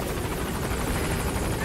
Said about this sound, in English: Did they notice my helicopter?